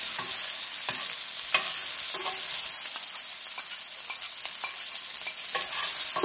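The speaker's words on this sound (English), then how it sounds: "I'm adding one medium-sized chopped onion and 2-3 green chilies chopped." Chopped onion and green chilies sautéing in a hot pan with dried red chili, a continuous close sizzle broken by scattered stirring clicks and scrapes, with no talking.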